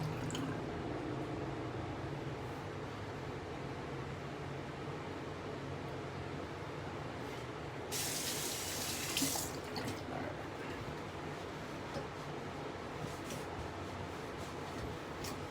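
Tap water runs into a sink to rinse a straight razor, a faint steady wash that grows briefly into a louder splashing rush midway, then settles back to a quiet trickle.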